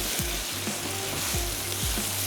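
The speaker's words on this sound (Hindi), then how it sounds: "इसमें चली गई सुर्ख प्याज" Browned fried onions tip into a hot pan while making egg curry, setting off a steady, loud sizzle with a few soft stirring scrapes; no voices.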